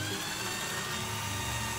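A cordless hand drill with a DC motor and speed control spins steadily, a constant close whine and buzz that holds at one pitch without breaks and with no voices.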